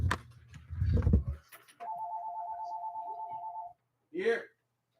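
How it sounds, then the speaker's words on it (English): A telephone rings with one long, steady electronic tone lasting about two seconds, right after a stretch of loud talking, and a brief voice follows. "Oh, the phone is ringing."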